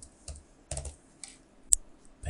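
Short bursts of keystrokes on a computer keyboard while working in AutoCAD drawing software, several quick clusters of taps spread across the moment, close and fairly quiet.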